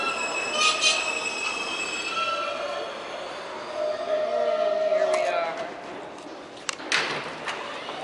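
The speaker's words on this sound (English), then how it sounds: "This is the E train here." A New York subway E train bound for World Trade Center rumbles along the track with high metallic wheel squeals rising and falling, ending in a few clanking bursts.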